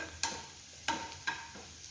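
Onions frying in a pan for a medicinal Karkidaka kanji, a steady soft sizzle punctuated by three brief spatula scrapes or stirs, close and without talk.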